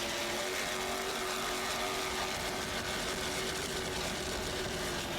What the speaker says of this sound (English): Just listen to those two 700-horsepower Chevy engines.